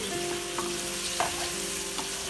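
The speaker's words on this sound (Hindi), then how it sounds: "ये सारी चीज़ें डाल के हमने इसको हल्का सा करना है फ्राई" Tomatoes and potatoes frying in a pan for baingan aloo sabzi, a steady close sizzle with occasional soft stirring scrapes and no talking.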